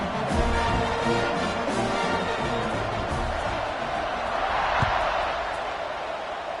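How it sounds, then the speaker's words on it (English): Football stadium crowd at an NCAA game buzzes loudly after a score, a dense, continuous roar of many voices with no single voice standing out, steady throughout. "this crowd is buzzing after that last score."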